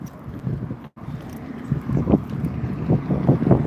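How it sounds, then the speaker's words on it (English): Strong gusting wind buffets the microphone outdoors, a steady low roar with rougher swells toward the end and a brief dropout near the start. "Got a lot of wind out here."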